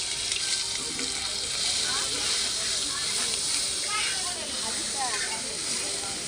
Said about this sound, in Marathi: तेल तापलं थोडं. हां, हे आता आपण त्याच्यात जिरं टाकलेलं आहे